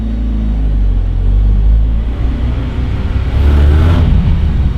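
A Mazda Miata engine running with a new aftermarket exhaust gives a steady, loud, low rumble that rises as it revs toward the end, with no talking over it.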